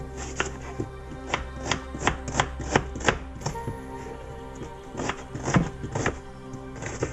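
A knife chops a small onion on a cutting board in quick, even strokes, a close series of crisp thuds that pauses briefly midway and then resumes, with no talking.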